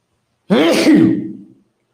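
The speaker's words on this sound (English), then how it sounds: "I got to sneeze." A single sneeze, close and loud, bursting out of silence and trailing off after about a second, with no other sound around it.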